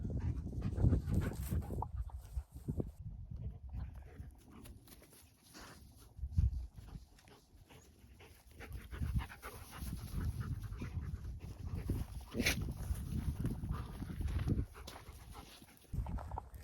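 Dogs pant steadily and heavily, close by, with rustling movement and footsteps in the background.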